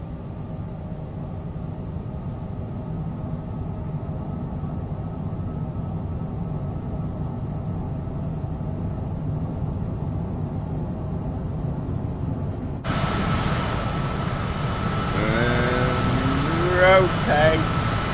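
Airliner jet engines idling and spooling for departure in Microsoft Flight Simulator 2024, a steady droning whine with a high tone, joined later by a louder layer with voice and radio chatter.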